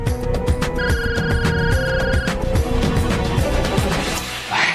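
A telephone rings in a trilling burst of electronic tones that fades after a couple of seconds, set against a busy backdrop of music and ambient noise in a Marathi TV drama scene.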